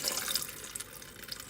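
Milky liquid is poured off homemade butter, a close, steady splashing and trickling of water into a sink.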